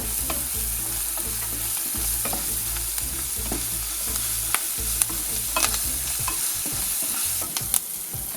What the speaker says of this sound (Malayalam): നന്നായിട്ടൊന്ന് വഴറ്റിയെടുക്കണം.